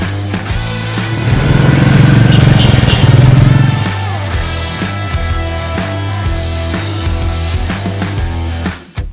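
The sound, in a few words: Royal Enfield motorcycle being ridden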